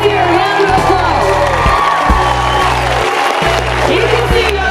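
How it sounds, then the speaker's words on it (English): A crowd at a belt buckle award presentation applauds and cheers loudly, whoops rising over a dense, continuous roar, with a steady music beat thumping underneath. "So, give Nasir a round of applause."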